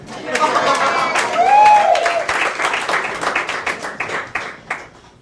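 Applause and cheering from a comedy club audience at Gotham Comedy Club greet a comedian taking the stage, a dense wash of claps with whoops rising over it, then tapering into scattered clapping.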